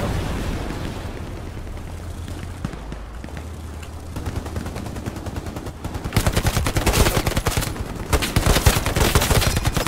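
Gunfire in a war video game: scattered shots early on, then from about six seconds a dense rapid burst of automatic fire, loud and sustained, with no talk over it.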